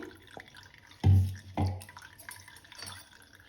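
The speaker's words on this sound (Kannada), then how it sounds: "ಮಿಕ್ಸಿ ಜಾರಿಗೂ ಕೂಡ ಒಂದು ಅರ್ಧ ಗ್ಲಾಸ್ ನೀರು ಸೇರಿಸ್ಕೊಂಡಿದ್ದೇನೆ ಅದನ್ನು ಕೂಡ ಹಾಕೊಳ್ತೇನೆ" Half a glass of water tipped into a mixer jar, making two short splashy pours close by in a quiet kitchen with no talking.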